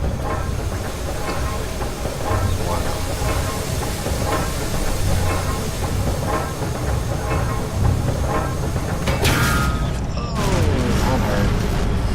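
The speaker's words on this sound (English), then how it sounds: "Let's try chucking a rock in the gears." A rock thrown into turning machine gears in Amnesia: The Dark Descent; a loud, steady rhythmic mechanical clanking and grinding runs throughout, then a sharp crunching jolt near the end.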